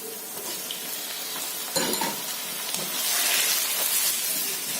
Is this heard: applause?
no